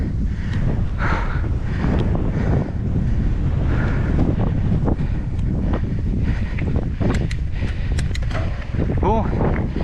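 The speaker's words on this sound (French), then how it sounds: "je suis pas sûr que le son soit ouf, étant donné qu'il y a beaucoup de vent." Strong wind buffets the microphone outdoors near open water, a continuous heavy rumble with gusts, while a person talks faintly beneath it.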